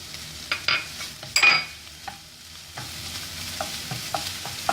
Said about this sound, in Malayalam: വഴന്നതിനകത്തോട്ട് നമുക്ക് ക്യാപ്സിക്കം ചേർത്ത് കൊടുക്കാം.